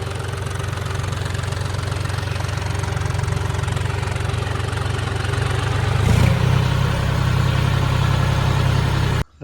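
A tractor stuck in a muddy field, its diesel engine running with a steady rhythmic knocking idle, loud and close, briefly rising in pitch and force before cutting off abruptly at the end.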